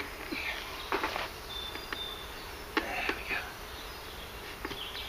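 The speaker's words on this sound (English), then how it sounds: "Just got those bees back in there." Honey bees buzz close by in a soft, busy hum, with light scraping and tapping sounds around a hive.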